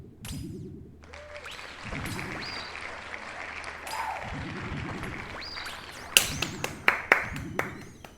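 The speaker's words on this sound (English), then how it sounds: "I live for the applause." Scattered hand claps ring out over a background of music and ambient noise in the game Old School RuneScape, sparse and uneven rather than a full crowd ovation.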